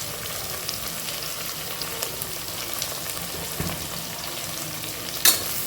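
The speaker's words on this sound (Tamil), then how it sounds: "வெங்காயம் சேர்த்துட்டு வெங்காயம் வதங்கிறதுக்கு கொஞ்சம் உப்பு சேர்த்துக்கலாம்." Chopped onions sauté in a hot pan for a biryani, a steady close sizzle and crackle with faint stirring scrapes and a sharp clink near the end, no voices.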